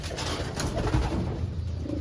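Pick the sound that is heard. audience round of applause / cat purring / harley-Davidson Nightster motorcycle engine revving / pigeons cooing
pigeons cooing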